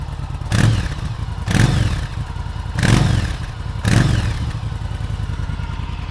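Yamaha Virago motorcycle idling with a gutted, baffled exhaust, a steady close low rumble with four evenly spaced louder swells, heard alone without talk.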